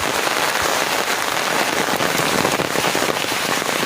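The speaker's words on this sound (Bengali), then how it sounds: "ঝমঝম বৃষ্টি আমার গায়ে পড়িতেছে" Heavy rain pours steadily across a broad wash of dense, continuous patter, loud and close on an outdoor walk, with no voices over it.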